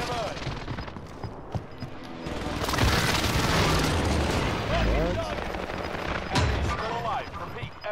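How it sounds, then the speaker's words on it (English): Precision airstrike explosions rumble and boom through a Warzone Rebirth match, a dense sustained barrage with sharper blasts toward the end, heard under overlapping voices. "Enemy precision airstrike"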